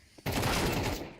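A burst of AK rifle fire in the game Counter-Strike, a dense rapid volley cutting in abruptly and fading out after about a second.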